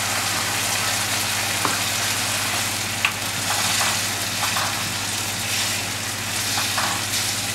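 Onions, garlic and tomato coulis simmer gently in olive oil over low heat, giving a steady, close, continuous sizzle and soft bubbling with a faint background hum and a few small clinks.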